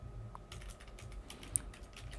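Fingers tap on a computer keyboard at a coding desk, quiet irregular keystrokes in short runs with one sharper click.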